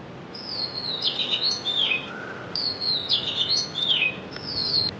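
Birds in a mangrove coastal forest of keora, gewa and goran trees near Kuakata, one clear warbling song repeated three times over steady, breezy background noise, fairly close and distinct, with no voices.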